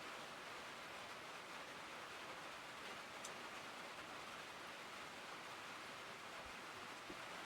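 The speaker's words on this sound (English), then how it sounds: "Dealing with rain noise like this all the time." Rain falls on a metal roof as a steady, dense hiss of drops, continuous and even throughout, with no voices.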